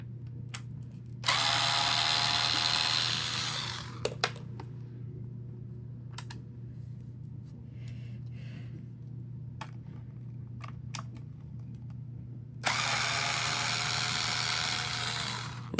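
A 4.8 volt electric screwdriver drives screws into the housing of a Hoover PowerDash Pet compact carpet cleaner, model FH50710C. Two sustained, close whirring bursts are separated by quiet handling clicks, with no talking.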